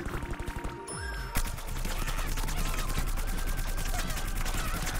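Rapid gunfire bursts from a cane shotgun in the video game Plants vs Zombies Garden Warfare on PS4, dense and continuous at close range after a brief opening.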